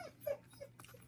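Indoor dogs whining and crying to be let outside while another dog is already out, a short burst of high, wavering whimpers and small yips, close and moderately loud, with no talk.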